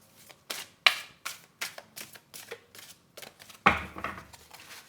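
A deck of cards is riffled over and over, about a dozen crisp, close bursts in a steady rhythm, with one louder shuffle near the end.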